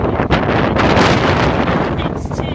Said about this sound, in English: this wind is quite windy, huh?